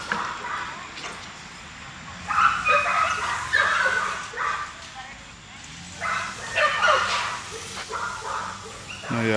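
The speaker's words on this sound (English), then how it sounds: "Now y'all hear all the dogs." Several dogs bark and yip in repeated bursts, some near and some farther off, with someone talking over them at times.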